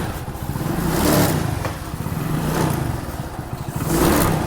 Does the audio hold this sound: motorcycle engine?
yes